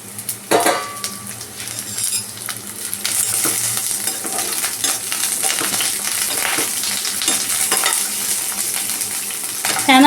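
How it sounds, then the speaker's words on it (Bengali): Vegetables sauté in a little oil in a pan, a steady sizzle mixed with repeated scraping and clinking as a utensil stirs them, heard close up without talking. "সবজিগুলো আমি একটু তেলেতে নাড়িয়ে নেব, মানে একটু হালকা সতে যেটা বলে সেইটা করে নেব"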